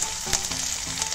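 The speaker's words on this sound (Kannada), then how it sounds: "ಸೊ ಇದನ್ನು ಚೆನ್ನಾಗಿ ಫ್ರೈ ಮಾಡ್ಕೊಂಡ್ಬಿಟ್ಟ" Onion, garlic and ginger frying in a pan for masala chitranna, a dense close hiss of hot oil that stays even throughout, with a faint stir near the start.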